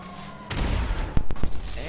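Sniper rifle shots in the GTA video game, several sharp close reports in quick succession over a dense, continuous game soundscape.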